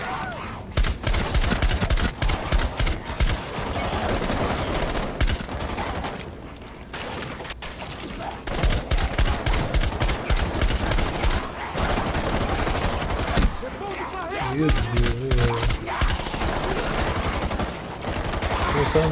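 Relentless rapid gunfire in Rainbow Six Siege Outbreak rattles almost continuously, with bursts of automatic shots and layered blasts, loud and close, with brief lulls before it resumes.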